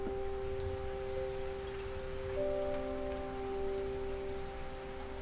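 Freezing rain hits window panes in a steady soft patter, continuous and close, with a faint sustained hum running underneath and no talking.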